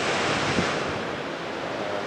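Waves wash steadily against a rocky beach at Kasap beach in Pacitan, a continuous loud roar of surf mixed with wind buffeting the microphone, with no voices.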